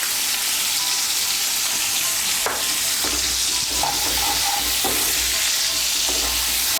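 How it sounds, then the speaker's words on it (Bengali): Pieces of teasel gourd (kakrol) frying in oil in a pan, a continuous bright sizzle with occasional scraping and stirring knocks from a spatula. "এই দেখুন কাঁকরোলগুলো আমার ভাজা হয়ে গিয়েছে"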